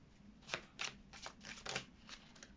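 Oracle cards being cut and handled: soft, faint papery riffles and flicks in a quick irregular run of about six bursts, close by and with no voice.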